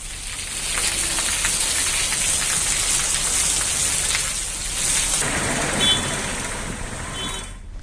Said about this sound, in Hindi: हरदा में भी भरपूर बारिश हुई है।